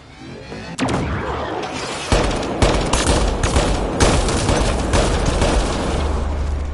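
Heavy gunfire erupts in a Mass Effect Andromeda firefight: loud, closely spaced shots and bursts in rapid succession, with sharp impact cracks over a constant battle din.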